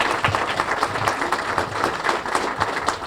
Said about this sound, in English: So join me in giving them a round of applause.